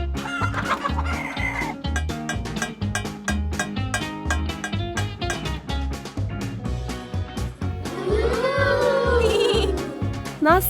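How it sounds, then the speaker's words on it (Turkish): Chickens cluck and squawk over a steady, rhythmic percussive beat, with a louder burst of fowl calls toward the end. "Tavukları besleyelim."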